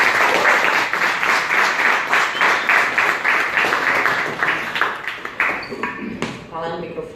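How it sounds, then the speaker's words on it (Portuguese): An audience in Brazil applauds to welcome a professor to the stage, dense rhythmic clapping that thins out and trails off near the end, with brief voices as it dies away. "Então eu gostaria que vocês recebessem com uma salva de palmas"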